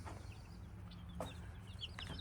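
Six Rhode Island Red hens clucking on a farmstead, soft scattered clucks and short calls at a moderate distance over a steady low background hum.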